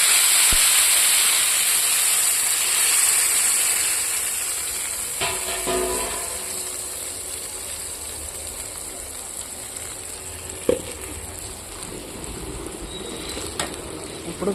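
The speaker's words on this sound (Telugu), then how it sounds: "ఆవాలు చిట్టపట అనాలి" Mustard seeds and cumin spluttering in hot oil for tomato rice, giving a steady loud hiss with scattered pops and crackles throughout, fading slightly over time.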